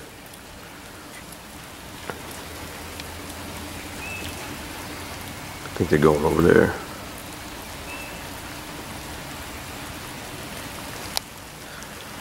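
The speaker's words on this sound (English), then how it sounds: "A lot of rain today" Steady rain patters across the whole stretch as an even wash of noise, with a brief louder burst in the middle and a few faint voices talking.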